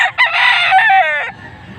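A bull stag rooster at a gamefowl sale gives one loud, close crow lasting just over a second, clear and alone with no talk over it.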